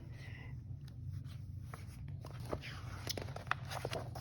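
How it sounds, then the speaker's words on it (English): Pages of a Stampin' Up mini catalog being flipped, with soft paper rustles and a few sharp page snaps against a low steady hum, fairly close and quiet. "I'm flipping through the pages here."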